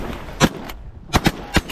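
Shotgun blasts fired at ducks during a hunt in a light snowstorm: one sharp shot, a pause, then three quick loud reports in close succession, each cracking hard against a low outdoor background.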